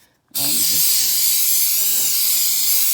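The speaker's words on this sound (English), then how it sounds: "Let me just spray it again on the sides." A continuous hissing spray bursts out suddenly and keeps going steadily for a few seconds, close and loud.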